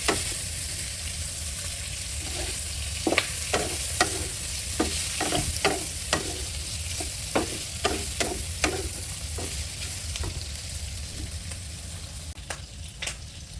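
Cabbage and garlic stir-fry in a hot pan: a loud, constant sizzle runs under a quick, irregular series of metal spatula strikes and scrapes against the pan.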